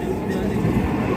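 A Dhaka metro train runs between stations with a steady low rumble and faint rail clatter throughout, a continuous near interior drone.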